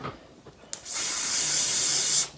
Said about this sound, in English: So now I grab some hairspray,